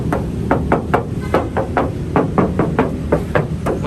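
Rapid knuckle knocks on the steel body panels of a 2001 Toyota Kijang Krista 2.0 EFI, about a dozen hollow, close-up raps in an uneven rhythm.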